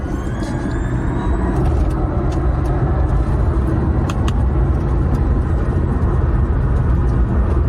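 A 2,000-horsepower electric SUV driving hard through turns, giving a loud, steady road and motor roar that holds constant without any gear changes.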